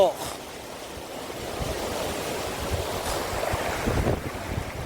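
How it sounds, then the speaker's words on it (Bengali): River water in Karnataka rushes under a bridge as a broad, steady roar, with wind buffeting the microphone and faint voices in the background. "দেখেছো জলের স্রোত দেখো"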